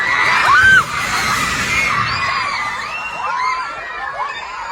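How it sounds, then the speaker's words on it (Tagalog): Panicked screams and shouting from a crowd of residents and students during a magnitude 7.8 earthquake in Mindanao, with a loud burst at the start and then continuous overlapping cries that fade slightly over the following seconds. "Rinig na rinig ang mga sigaw ng mga residenteng nakasaksi at nakaranas ng pagyanig."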